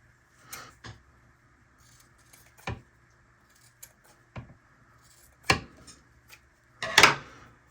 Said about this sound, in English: These are not my good scissors. These are my Junko scissors.